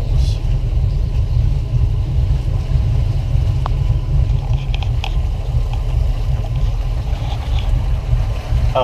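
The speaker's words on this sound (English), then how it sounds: "I'm just going to put the boat in reverse just to kind of stop the forward momentum" A motorboat engine in reverse while docking drones steadily and loudly at low pitch, with water and wind noise around it and no voices.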